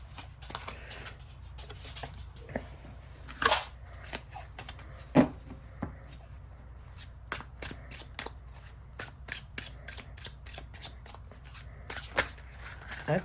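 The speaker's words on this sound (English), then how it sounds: "let's try and see how it shuffles" A linen-finish black and white Rider Waite tarot deck being shuffled by hand, soft papery riffles and sharp card snaps scattered across a quiet room, with occasional louder clicks.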